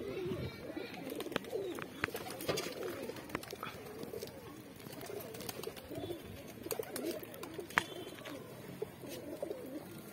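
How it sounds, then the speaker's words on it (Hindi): Pet pigeons coo in soft, throaty repeated calls through a ten-second stretch, close by and fairly quiet, with scattered small clicks and rustles around them. "मैं अभी एक कबूतर का शौक कराता हूँ।"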